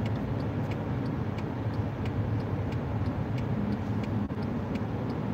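Street traffic with passing cars, a steady low road rumble of engines and tires at moderate distance, with faint regular ticking on top and no talk.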